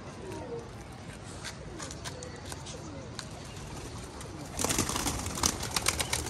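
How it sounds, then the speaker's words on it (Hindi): Soft pigeon coos sound nearby under background noise, followed by a louder rustling flurry like wings flapping toward the end. "ये कबूतर आज पाँच दिन के बाद नीचे उतरा है"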